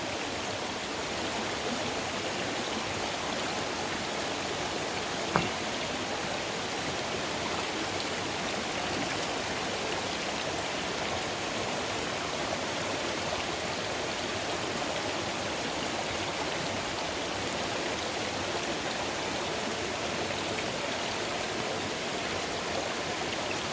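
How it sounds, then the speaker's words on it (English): Waterfall rushing steadily outdoors, a constant broadband roar of falling water at moderate level, unbroken throughout apart from one brief tap. "Let's let them watch the waterfall."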